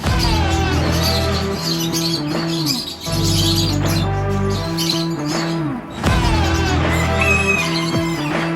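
A rooster crows repeatedly in long, loud, strained calls, close by, with clucking and squawking from other chickens between the crows and no talking.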